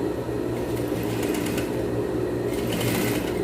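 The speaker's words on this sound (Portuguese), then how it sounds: "Aí sim, ó, eu posso vir costurando, né?" A sewing machine runs steadily while stitching a women's tailored blazer, its fast, even whir holding close and continuous without a break, alone with no talk.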